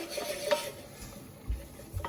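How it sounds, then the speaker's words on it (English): Butter and flour sizzle softly in a pan, faint and close, punctuated by a spoon scraping and clinking against the pan. "You can just hear it sizzling away."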